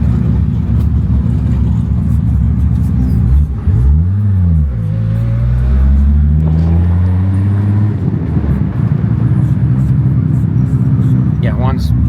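An 1100 hp Toyota Supra engine growls up close, dipping then revving hard through sweeping rises in pitch before settling back to a low rumble, with a loud exhaust throughout.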